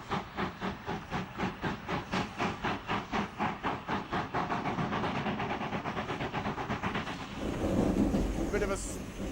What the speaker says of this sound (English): Bit of a wheel slip there.